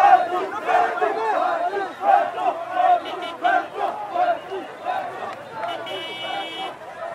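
A large outdoor crowd at a political campaign rally in the Congo cheers and shouts in rolling surges, loud and dense throughout, with many voices chanting together.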